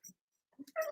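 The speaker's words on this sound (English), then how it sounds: "You guys hear my little puppy dog?" A puppy whimpering in short, faint, high-pitched bursts with pauses between them, close by in a quiet room.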